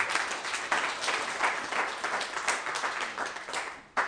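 A church congregation claps in praise of Jesus, a steady, moderately close wash of many hands applauding throughout, with a brief dip just before the end.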